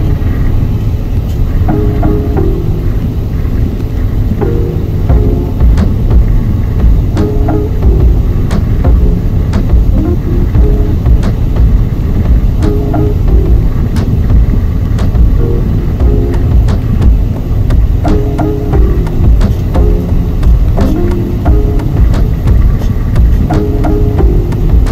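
A semi truck drives along a highway through the Tennessee mountains, heard from inside the cab as a steady loud engine and road rumble with faint rattles, continuous throughout.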